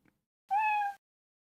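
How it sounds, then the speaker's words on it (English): A single clear cat meow, short and close, in otherwise near-silence. "Appreciate the meow."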